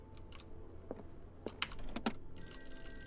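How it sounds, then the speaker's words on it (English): A telephone rings in the Call of Cthulhu video game, its bell tones sounding several times in short bursts over a keyboard-clicking background, then settling into a steady ringing near the end. "Shut up, phone."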